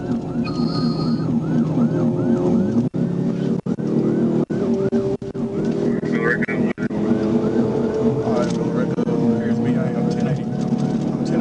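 A police siren wails in repeated rising and falling sweeps during a pursuit of a fleeing motorcyclist heading toward the interstate, loud and continuous over road and engine noise, with radio chatter and talk mixed in.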